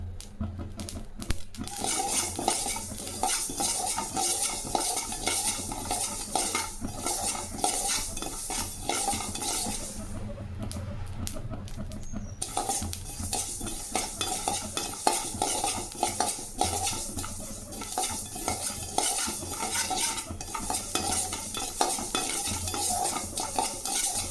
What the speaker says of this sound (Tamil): கடுகு போட்ட உடனே பாருங்கள் லைட்டாக சூடு அந்த சவுண்டு எப்படி வருது